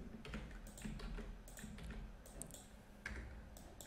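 Code typed on a computer keyboard while building a live HTML, CSS and JavaScript editor, a quiet, steady run of soft key clicks at close range with no voices.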